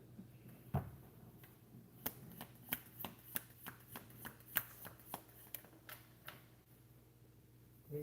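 Tarot cards riffle and snap in a series of crisp, close clicks and flicks, irregular bursts over a quiet background during a shuffle.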